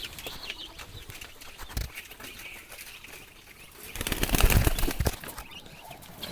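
Chinese ducks and local chickens in a backyard poultry enclosure, with scattered flapping wings, clucks and rustling, rising to a louder burst of flapping and commotion midway before settling again.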